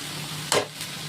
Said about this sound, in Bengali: আমি এবারে এই শাকটা ভেজে দিচ্ছি।